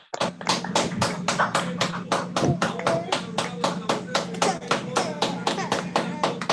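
Applause at an online event on children's rights, heard as a rapid, regular series of distinct claps, close and fairly even in loudness, like a single person or small group clapping into a microphone.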